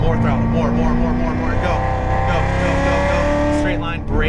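A Corvette Z06 Stingray on a racetrack keeps a steady, loud engine roar as the throttle is fed on, with its pitch climbing and shifting between gears and a voice talking over it throughout.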